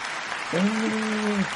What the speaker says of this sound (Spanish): Inserten aquí aplausos.